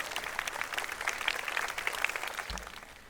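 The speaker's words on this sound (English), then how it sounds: "May we have a huge round of applause for her." An audience applauds at a school annual day, a dense patter of many hands clapping at moderate distance, steady and sustained.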